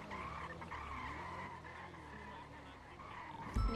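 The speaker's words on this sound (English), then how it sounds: "Let me get this fucking tow truck out of here." Tires skid and squeal steadily under an engine drone as a tow truck is driven in a GTA role-play game, with a sharp thump near the end, all fairly quiet.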